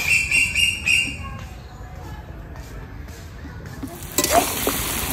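Duck meat and pre-fried potatoes cook in a generous amount of oil, giving a soft sizzle and stirring scrapes, with a brighter burst of sizzling near the end and faint birds chirping in the background.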